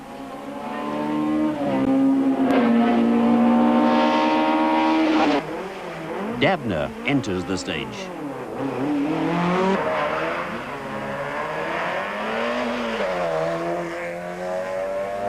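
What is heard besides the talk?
rally car engine racing on stage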